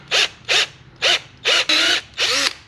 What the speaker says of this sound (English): You would then take your screw gun, and on this one I set it to the highest torque value for drilling